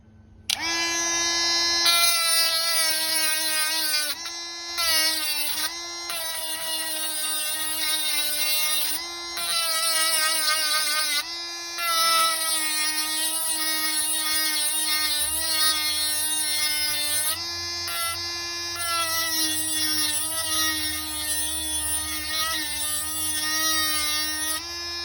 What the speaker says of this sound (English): with the Dremel tool, this is the most easiest way to sharpen these blades